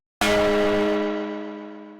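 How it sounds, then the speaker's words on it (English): A single sharp struck sampled timbale tone, bright and ringing at onset, with a long sustained decay that slowly fades; no voices. "this just goes all the way up the notes on the keyboard."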